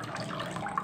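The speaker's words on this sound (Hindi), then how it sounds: "तो इसमें हमने पानी डाला है थोड़ा सा" A small amount of water is poured into a yogurt mixture for dahi pakora, giving a steady, close splashing trickle.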